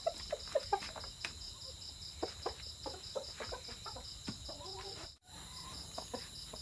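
A four-year-old Filipino fighting cock gives short, sharp clucks and calls in scattered bursts, close by, over a steady background of insects and faint farmyard sounds.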